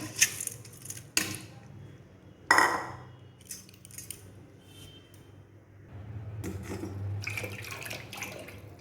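Water drains from soaked rice in a home kitchen while rice-flour batter is prepared for palm-fruit bhapa pitha, with clinks of a metal vessel and utensils, then a steady close pour and trickle near the end.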